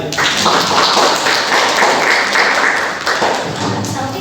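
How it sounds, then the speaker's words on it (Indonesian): Applause from a classroom audience for presenting students, a steady wash of clapping and taps that holds for about four seconds at close range, with some voices mixed in. "Tepuk tangan buat yang presentasi."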